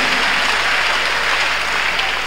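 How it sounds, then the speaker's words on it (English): A church congregation at a Tuesday miracle service claps hands together in steady, dense applause that holds at an even level throughout. "Clap your hands unto God of the chosen."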